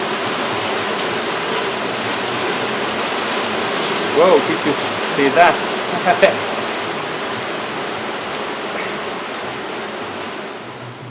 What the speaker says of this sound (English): okay, it's raining now,